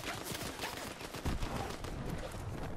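Rapid gunfire bursts in a video game, several sharp cracks in quick succession, loud and close, with no talk over them.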